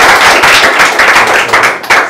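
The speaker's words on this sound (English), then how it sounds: "Please, a round of applause for yourself." An audience at a Yoruba film scene claps in a short burst of applause. The clapping is close and loud, with uneven surges over about two seconds.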